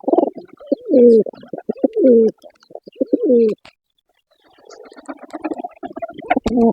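Pigeons, including a male Beauty Homer and a Sirazi, coo close by in a rooftop loft: repeated low, throaty rolling coos in several bursts with a short pause midway, then softer rustling and faint calls.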